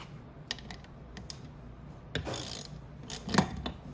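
Tightening a part inside the cover of a Venom 125cc engine during a reverse idle bearing and gear pack job, giving a few short metallic clicks and ratcheting tool bursts up close, with no talk.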